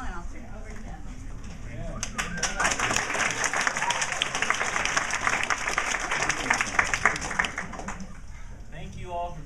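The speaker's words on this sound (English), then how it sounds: "So please give a big round of applause for Jamaal" An indoor audience gives a speaker a round of applause. Steady, moderately loud clapping swells after a brief quiet start and continues for several seconds before fading.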